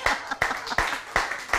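Applause from a small audience, quick sharp claps arriving in short bursts in an irregular rhythm, fairly faint and close.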